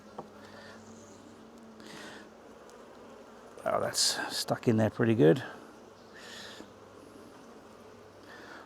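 Honey bees buzz steadily around an opened hive during a frame inspection, low and close. A person talks briefly over it while frames scrape and knock.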